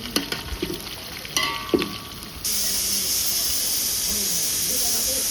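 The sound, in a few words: pressure cooker releasing steam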